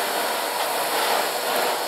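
Miele C3 canister vacuum running on straight suction, a steady loud airy roar held throughout, close and alone with no talk.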